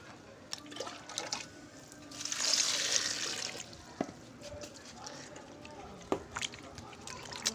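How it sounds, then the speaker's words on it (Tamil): Water is poured over sliced raw banana to wash it in a village kitchen, with a soft splashing swell in the middle and scattered small drips and knocks, fairly quiet and close. "அதனால் இதை நல்லா போட்டு ஃபஸ்ட்டு நல்லா கழுவணும் தண்ணி ஊற்றி."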